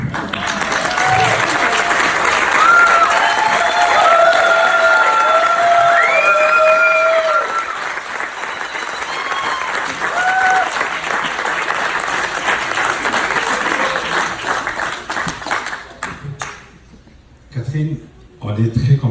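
Wedding guests burst into loud, sustained applause and cheering, a dense roar of clapping with whistles or shouts riding on top that thins out near the end, then a few scattered claps and murmurs.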